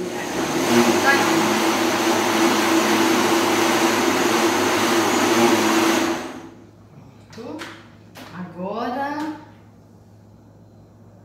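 A blender beats cornmeal cake batter with a steady loud whirring hum for about six seconds, then cuts off, followed by a few short knocks and a brief voice.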